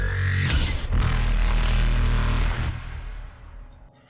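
A shrieking signal from a descending ship in the Mass Effect video game, a loud dense harsh roar with a sharp burst near the start, holding steady before fading away over the last second and a half.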